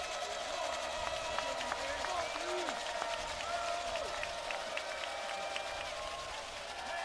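Fans at a high school football playoff semifinal fill the stadium with a constant, distant roar of cheering and applause, with scattered voices and tones rising over the steady crowd din.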